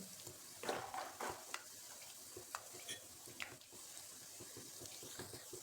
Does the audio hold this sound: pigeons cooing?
no